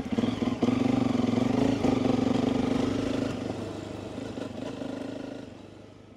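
A motorcycle engine drones steadily on a shared trail, loud and close at first, then gradually fading as it moves away, with no talking.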